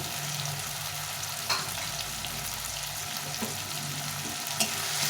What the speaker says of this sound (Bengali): টমেটোটা একটু ভাজে ভাজে হোক